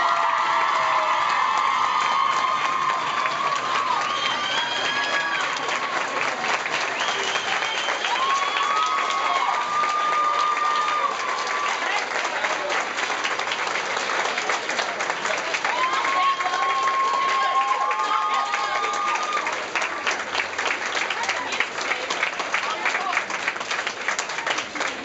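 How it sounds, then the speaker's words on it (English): A school audience at a Locks of Love hair-donation ceremony claps and cheers steadily for a long stretch, with children's shouts and whoops rising over the sustained applause. "here a round of applause."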